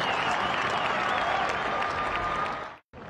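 Crowd at Fort Byrne Stadium, Port Melbourne, during a VFL preliminary final between Box Hill Hawks and Richmond, cheering and applauding after a goal. A dense, loud, sustained roar with clapping fills the air, then cuts off abruptly near the end.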